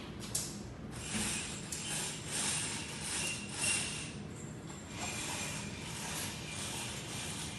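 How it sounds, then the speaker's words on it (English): Window shades being pulled up in a room: a continuous ratcheting, rattling mechanical clatter with small clicks and rubbing, moderately close, with no talking. "If they're already down, pull the window shades up."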